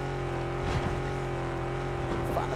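A car engine drones steadily with a constant tonal hum while driving in the video game PUBG, loud and continuous with faint rattles over it.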